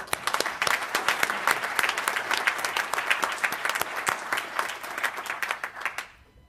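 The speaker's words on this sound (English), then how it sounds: "Another round of applause for Dr. Don Work and snowboarder patient T.R." Applause at a press conference launching a health initiative: a dense, steady round of clapping from a room of attendees, holding strong for several seconds before tapering off at the end.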